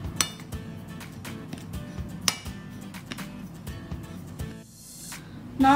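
A spoon stirs a dry coating of semolina, rice flour and masala spices in a bowl, giving repeated light clinks and taps against the bowl over a soft scraping rustle, fairly close.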